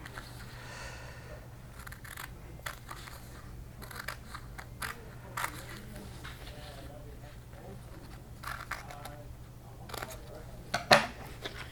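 Scissors trimming around a sheet of model-kit decals, with a series of soft snips and paper scrapes close by under quiet speech.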